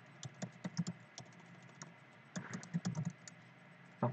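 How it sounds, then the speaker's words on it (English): Light typing on a computer keyboard in two short bursts of clustered keystrokes separated by a pause, then one final key press, quiet and close with no talking. "Let me just type it here."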